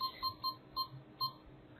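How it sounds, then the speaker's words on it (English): Short electronic beeps from a Canon G7X camera repeat in an even rhythm, five or six quick bleeps spaced about a quarter to half second apart, close and fairly quiet. "I'm going to have to turn that beeping off."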